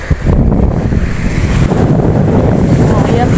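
Strong wind buffets the microphone at a beach, a loud, continuous rushing roar with broadband noise and no clear pauses.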